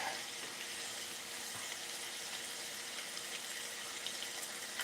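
Filtered water poured into a pan of taco filling, a continuous broadband hiss and gush with faint sizzle, steady and fairly close throughout, no voices.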